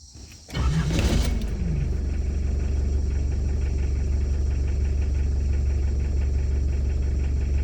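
A diesel vehicle cold-starting after sitting to cool: a brief cranking whir, then the engine catches and settles into a loud, steady, rough idle that runs without a break to the end.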